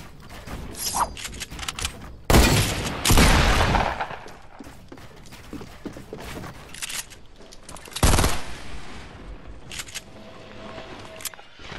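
Automatic gunfire in a video game: dense rapid bursts of shots come in repeated clusters, with a few louder blasts standing out, some clicking mechanical noises in between and little talk.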